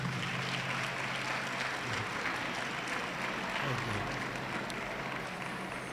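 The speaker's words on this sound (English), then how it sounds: "give yourself a big applause" Audience applause at a Free State government ceremony on student debt relief, a dense, even wash of clapping from a crowd sustained for several seconds at moderate distance.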